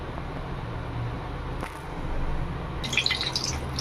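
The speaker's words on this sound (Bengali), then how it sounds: "এই তেলে আরো তেল দিয়ে দেবো" Cooking oil is poured into a wok that already holds a little oil, ready for a spinach dish. A soft, close liquid trickle and splash comes in near the end, over a low steady kitchen hum.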